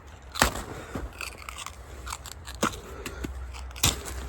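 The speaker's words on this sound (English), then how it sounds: "just cut off all these leaves" Scissors snipping off banana plant leaves in a raised garden bed, three or four sharp crisp cuts spaced a second or so apart, close and clear over faint outdoor background.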